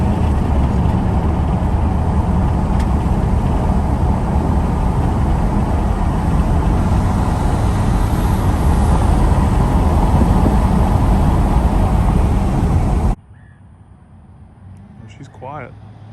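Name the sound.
Cummins diesel truck driving with window down, wind noise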